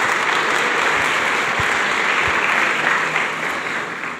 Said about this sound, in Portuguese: Você pode aplaudir com muita mais alegria.